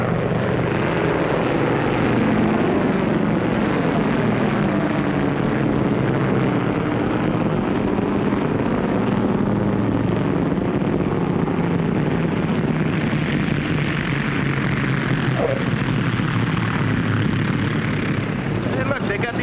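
A propeller airplane from around 1950 descends to land with full flaps, its engines droning loud and steady throughout while voices talk over the roar.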